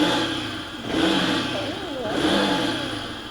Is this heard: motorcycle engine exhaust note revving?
yes